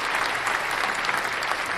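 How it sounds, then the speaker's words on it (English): Audience applause during a podcast recording, a steady dense wash of clapping that fills the whole moment without a break. "But round of applause for that."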